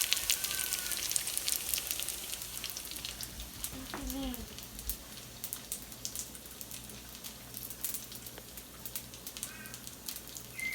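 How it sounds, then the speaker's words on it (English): Philly cheesesteak egg rolls frying in very hot oil until golden brown, a steady close sizzle with bubbling crackle throughout, with no talk. "my oil might be a little bit hot. And I cook them till they're just golden brown."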